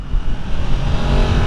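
A Yamaha MT10 SP motorcycle ridden at walking pace, its engine a loud, close, steady low rumble with slight throttle fluctuations.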